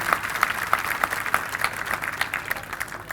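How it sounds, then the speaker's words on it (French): Audience applause at a televised live show, a moderate steady patter of clapping from a crowd, with some higher rhythmic accents riding over it. "je vous demande d'applaudir très fort"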